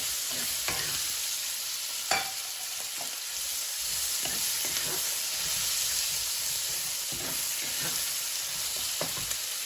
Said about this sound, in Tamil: இந்த வெங்காயம் கொஞ்சம் சீக்கிரம் வதங்கும்.